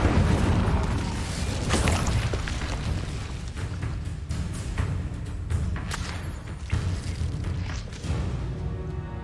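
An Incendio fire spell cast in the video game Hogwarts Legacy gives a loud whooshing boom, followed by a run of crackling, thudding impacts that go on over a low rumble.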